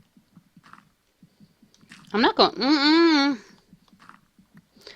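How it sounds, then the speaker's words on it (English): Chewing close to the microphone makes faint, rapid wet clicks that run before and after a short spoken phrase. "quit chewing in my ear"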